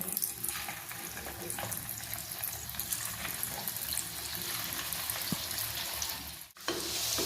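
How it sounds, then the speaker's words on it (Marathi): Steady bubbling and hissing of sabudana nuggets frying in hot oil, continuous and close, with a brief dip near the end. "आता यांना मी तळून घेत आहे"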